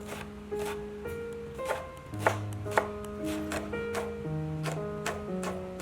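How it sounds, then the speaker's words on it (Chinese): Knife chopping green chili peppers into rings on a cutting board, a rapid steady series of close crisp chops with a few louder knocks and background music. "再切成青椒圈。"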